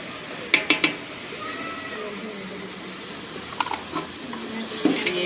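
Chopped green and red chillies sizzle steadily in a pan in a village kitchen, with a few sharp metallic clinks of a spoon against the pan and quieter stirring scrapes through the frying.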